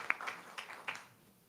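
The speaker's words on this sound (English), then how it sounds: "Thanks, round of applause." Brief, light scattered clapping from a conference session audience, a few sparse claps that quickly fade out, heard faintly without talk.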